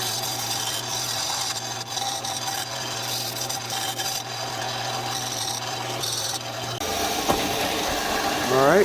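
A disc sander grinding and rubbing a metal RC boat water pickup in a workshop, a steady abrasive rasp with a low machine hum throughout, then the motor cutting off and spinning down near the end.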